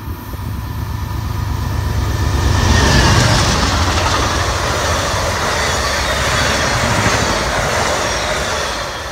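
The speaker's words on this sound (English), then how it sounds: "There goes Amtrak 42." Amtrak 42 passenger train with P42DC locomotive 117 leading, rushing past a field as a loud broad roar of diesel engine and rolling wheels builds and then holds steady, no speech over it.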